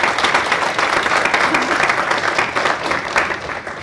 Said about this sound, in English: They need a round of applause.